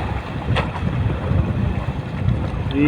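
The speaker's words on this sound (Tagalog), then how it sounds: "Ang lakas na yung generator ay." A generator runs loudly aboard a tuna fishing boat at sea, a dense continuous drone mixed with wind buffeting and water noise.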